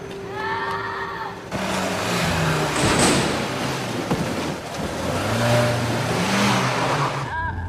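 A car pulling away with its engine revving, a loud roar rising and falling in pitch close by, with a brief exclamation over the start and the sound easing slightly before a second rev.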